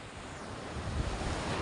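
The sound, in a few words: big sea waves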